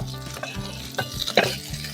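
Pork fat crackles and sizzles steadily as it renders in a cauldron over an open fire, with bright spitting pops and faint scraping of a utensil stirring close by.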